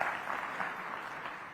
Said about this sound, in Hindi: लो भाई ताली बजाओ इनके लिए